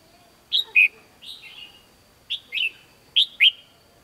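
A red-whiskered bulbul calls near a bird trap, giving three close, loud bursts of paired bright chirps separated by short pauses, with no voices during the calls.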